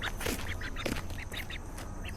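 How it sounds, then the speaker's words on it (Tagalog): Ducks on a mountain ranch give a series of short, nasal quacks in quick irregular succession, moderately close over a steady outdoor background hum. "Itik sa bundok."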